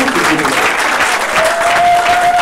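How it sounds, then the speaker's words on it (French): Loud, sustained applause from guests at a civil wedding ceremony, dense clapping filling the room continuously, with a faint tone rising partway through. "On applaudit très fort."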